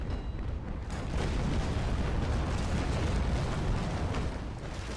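Naval battle game with a sailing warship's cannons firing grape shot at an enemy ship's sails, a dense, loud roaring barrage of booms blurring into continuous rumble.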